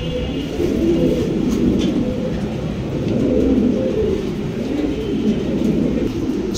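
A white King pigeon coos in low, repeated rolling calls, close and fairly loud, with a steady murmur of background noise and no talking.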